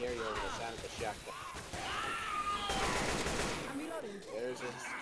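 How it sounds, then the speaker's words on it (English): Video game gunfire, bursts of shots and blasts overlapping, mixed with in-game character voices and shouting throughout. "I couldn't hear you over the sound of the shotgun."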